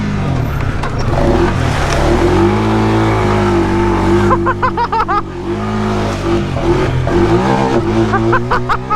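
Stock Honda 420 four-wheeler ATV engine droning steadily while riding, loud and close with a varying pitch, under a few brief shouts and talk from riders.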